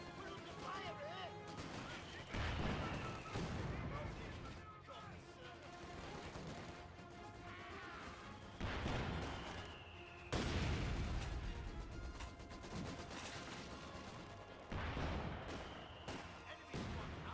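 Gunfire in Project Zomboid: repeated bursts of shots and heavy cracks over several seconds, mixed with game voice callouts and radio chatter.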